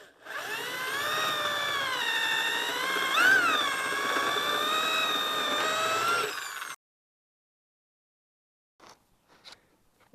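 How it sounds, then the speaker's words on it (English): A spot weld cutter drills out a spot weld on a Jeep Wrangler TJ cab corner with a steady, high, ringing whine that wavers slightly in pitch, then stops abruptly, followed by silence and a few faint clicks. "we're going to cut out this spot weld right here"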